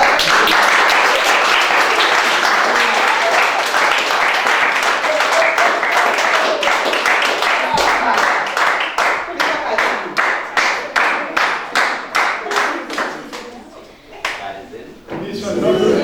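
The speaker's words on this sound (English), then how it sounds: "I want you to put your hands together for Peter Duro" A crowd of primary school pupils and visitors applauds at a school visit: loud sustained clapping that gives way to slower, rhythmic unison claps before fading, with a voice speaking briefly over it.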